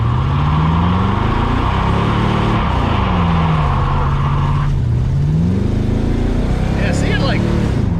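A cheap LS-swapped muscle car revs loudly and repeatedly, its engine note climbing and dropping in long sweeps under a steady roar, with people talking over it.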